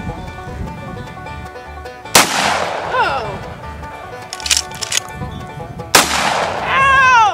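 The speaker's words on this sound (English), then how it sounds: "I'm gonna shoot it right through the zero." Two sharp, loud gunshots fired at a target, each a sudden crack followed by a ringing, whistling decay, spaced several seconds apart, with scattered impact and handling noises between them.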